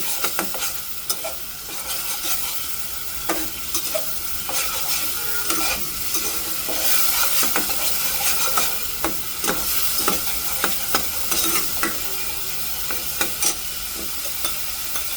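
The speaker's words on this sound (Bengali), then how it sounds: "এটাকে আমি অনেক নাড়াচাড়া করব, নেড়ে নেড়ে আদা রসুন এগুলাকে একটু ভুনা ভুনা করব।" Ginger and garlic stir-fry in a pan for a chicken curry, with a constant close sizzle broken by frequent scraping and clacking strokes of a spoon against the pan, and no talking.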